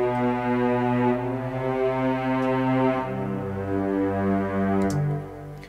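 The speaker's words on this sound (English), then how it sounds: "Starts with a cello, which is this one here" A sampled cello from Spitfire BBC Symphony Orchestra Discover holds long, low, sustained bowed notes that change pitch gently, steady and full throughout, alone with no voices.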